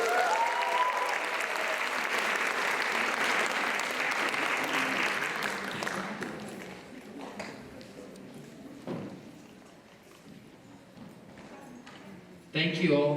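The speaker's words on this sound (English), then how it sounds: "let's all give a big clap for Deeksha" An audience applauds a dancer at a Bharatanatyam Rangapravesam recital, a dense burst of clapping for about six seconds that thins into scattered claps, shuffling and murmurs before a brief loud swell at the end.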